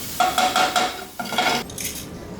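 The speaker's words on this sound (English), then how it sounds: "I'm gonna move the frying pan off the burner" A frying pan of scrambled eggs is shifted off a stove burner with a few quick metallic scrapes and clanks, close and moderately loud, followed by a brief lighter clink.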